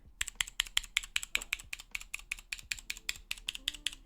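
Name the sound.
mechanical keyboard blue switches being pressed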